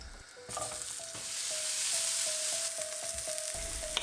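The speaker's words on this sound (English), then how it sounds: "You can use some tongue to help, and continue to fry the second batch." Zucchini fries in hot oil in a second batch, a steady, close, bright sizzle with light, regular taps of tongs on the pan throughout.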